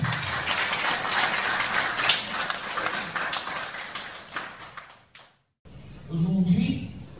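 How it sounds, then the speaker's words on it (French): Applause and clapping from the crowd at a Kourou carnival committee awards ceremony, busy and sustained at moderate distance before fading, then breaking off into a short gap followed by a voice speaking. "je vous demande de nous applaudir à l'instant"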